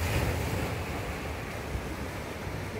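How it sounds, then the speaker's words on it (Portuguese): Sea waves wash steadily against a rocky beach, a continuous broadband roar of surf with some wind noise on the microphone, fairly close and with no voices. "Esse barulho do mar é muito bonito"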